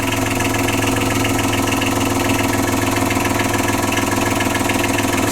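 An engine idles at about 800 rpm tick over, a loud, close, steady low rumble with an even pulsing throb that holds without change, no talking over it.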